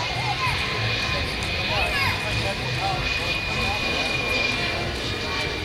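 A steady, dense jet-engine roar from a radio-controlled scale model B-52 bomber in flight fills the air continuously, with a thin high whine running through it and voices faintly beneath.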